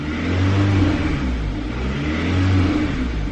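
A 2011–2013 Hyundai Sonata Hybrid engine, faulting with a camshaft position sensor code, runs steadily at a parked idle with a low, even hum that swells and eases slightly, close and continuous.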